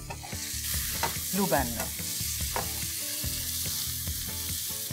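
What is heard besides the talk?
chopped onions sautéing in Blue Band with whole garam masala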